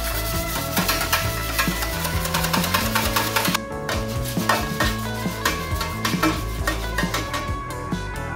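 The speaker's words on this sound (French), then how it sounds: "on fouette énergiquement 2 blancs d'œufs, 2 œufs entiers, de l'huile" A whisk beats egg whites, whole eggs and oil vigorously in a bowl, fast rhythmic clattering strokes that briefly slow and soften partway through, then resume.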